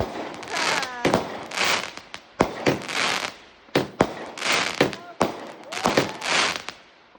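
A Diamond Fireworks 'Lovely Nice Cake' barrage on Bonfire Night, with a rapid series of loud bangs and whooshing bursts separated by crackling tails, close and intense, with voices faintly present between shots.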